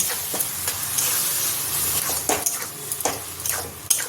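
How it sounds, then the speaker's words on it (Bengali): Boiled taro stems are stir-fried in an iron wok, a close, loud, steady sizzle broken by repeated scraping strokes and spattering bursts of the spatula, with no voices. "কচুটা খুব ভালোভাবে ভাজতে হবে ওর জল যতক্ষণ না শুকনো হচ্ছে"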